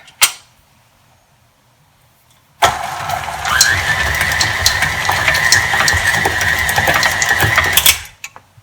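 An electric stand mixer whirs on for a few seconds of steady motor hum while briefly mixing chocolate chip cookie dough, loud and close, after a short click and quiet lead-in, then cuts off.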